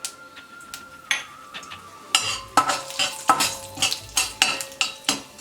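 Mustard seeds and black gram lentils crackle, pop and sizzle in hot oil for aval upma, with scattered sharp pops and stirring clinks, close up and with no voices.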